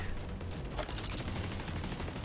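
Rapid turret gunfire in the shooter game The Division 2, set in the Air & Space Museum, rattling as a dense, continuous burst of loud shots across the whole stretch.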